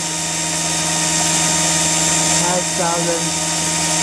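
A V120D02 RC helicopter's rotor head spins at steady idle-mode speed, a continuous whirring drone with a tonal hum, while people talk over it nearby.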